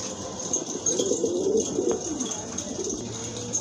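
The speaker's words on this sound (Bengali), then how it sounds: "আরেক জোড়া লাহোরি কবুতর মাশাআল্লাহ খুবই সুন্দর, দাদানের গেটআপ দেখেন কবুতরের" A pair of Lahori pigeons at a farm coos in low, rolling murmurs, close and fairly steady, with a faint background hum and no talk.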